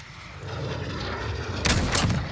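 Two sharp gunshots in a Modern Warfare Search and Destroy match crack out over a low rumbling game background, close and loud, fired in quick succession near the end.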